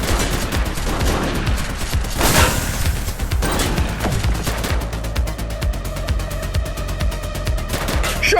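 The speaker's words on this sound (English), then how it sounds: "Shots fired!" Gunfire erupts in The Precinct, a police action video game: repeated loud gunshots and bursts of automatic fire crack across a steady clatter, with a heavy crash-like burst near the middle and dense volleys continuing to the end.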